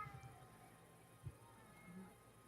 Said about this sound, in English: I can hear bloody cats fighting.